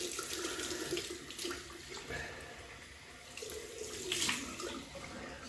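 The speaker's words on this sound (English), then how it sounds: "We'll have a cold water rinse." Cold water running from a tap into a sink after a double-edge razor shave, a steady close splashing stream with a few louder gushes, faint voice underneath.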